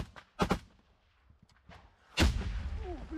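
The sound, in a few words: mortar strike explosions on trench position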